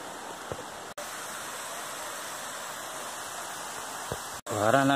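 A waterfall pours down steadily as a continuous broadband rush, loud and constant throughout, with two brief dropouts and a faint voice near the end.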